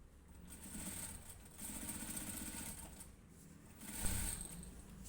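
A sewing machine stitches the lining of a blouse in faint, rapid bursts, its whirring running in short stretches with brief pauses between them.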